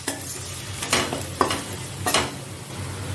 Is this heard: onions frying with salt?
yes